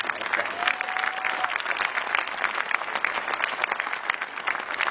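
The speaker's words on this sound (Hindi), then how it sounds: "मैं चाहता हूं इन तमाम कवियों के सम्मान में एक बार जोरदार तालियां" Steady, lively clapping from an audience at a Hindi poetry recital, sustained and even for several seconds with crisp hand claps throughout.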